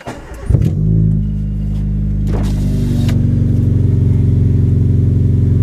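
A car engine cranks and catches, then idles loudly and steadily with a deep rumble, close by, with a few brief clicks early on.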